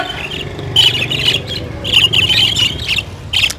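Caged local-breed parrots squawk at the Lalukhet Sunday bird market. Sharp, shrill calls come in repeated bursts close by, over a low crowd murmur.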